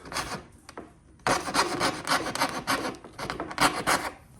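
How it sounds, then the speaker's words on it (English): Half round file rasping across wooden trim, several steady strokes close by after a quieter start, with no talking. "I have this half round file."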